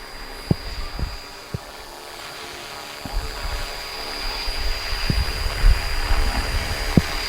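A DEVIL X360 H1 remote-control helicopter flies in to land outdoors, its steady rotor whir and hum filling the air, with a few sharp knocks and clicks scattered through it.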